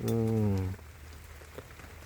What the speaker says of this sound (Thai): ว่าจะให้บรรยากาศตอนฝนตกให้เบิ่ง